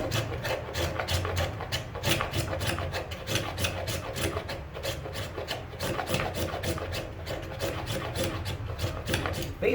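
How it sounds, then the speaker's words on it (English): A knife carves shavings off a piece of fatwood with rapid, rhythmic rasping scrapes, close and steady, with no talking. "I'm going to take this piece of fatwood and I'm going to make some shavings off of it from my knife right here"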